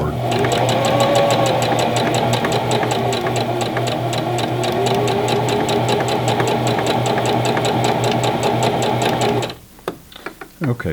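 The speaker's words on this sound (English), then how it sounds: "So I'm going to back stitch to start out and then go forward." A Singer Classic Heavy Duty sewing machine runs steadily at close range, its needle ticking in a fast even rhythm through a short back stitch and then forward sewing, stopping near the end with a few clicks.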